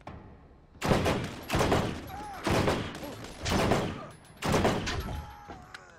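Bursts of gunfire in the video game Borderlands, five loud volleys in a rough rhythm about a second apart, each followed by a short gap, with faint talk in the background.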